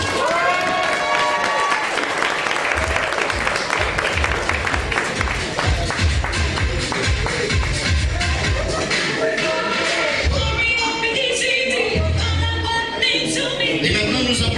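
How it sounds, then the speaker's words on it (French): A crowd at a slam poetry contest claps and cheers for a poet, the applause and shuffling rising and falling over loud music for about fifteen seconds. "Je crois qu'on peut applaudir le poète."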